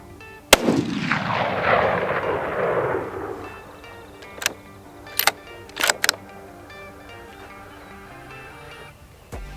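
A Ruger American Gen 2 rifle in .308 fires one loud, sharp shot near the start, its boom decaying over a few seconds, followed by fainter clicks and clatter of the bolt being worked.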